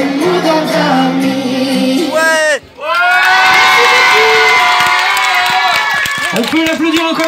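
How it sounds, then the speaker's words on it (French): A crowd at a children's music concert in Forbach cheers and shouts loudly, with whoops and some clapping, the noise dipping briefly before swelling again; talk and amplified voices mingle through it. "On peut l'applaudir encore une fois, vraiment très très fort"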